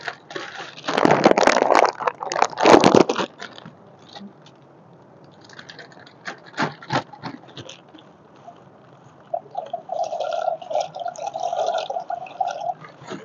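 Hot water is poured into a pan while cooking macaroni, with two loud splashing pours early on, then scattered clinks and drips and a softer trickle near the end, close to the microphone.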